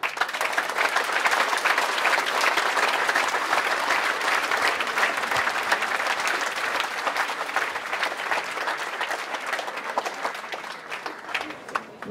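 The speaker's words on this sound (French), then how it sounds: "Et vous pouvez vous applaudir." A crowd at an election night gathering for a municipal list gives sustained, dense applause. The clapping is loud and even throughout and only tapers slightly toward the end.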